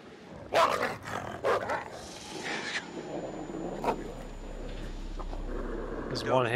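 Dog barking in the horror video game Until Dawn: several sharp barks and growly yelps early on, mixed with game effects and a player talking, fading into tense ambient drone.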